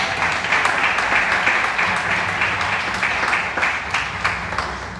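A church congregation applauding during a worship service, loud and steady massed clapping close by that holds its energy for several seconds.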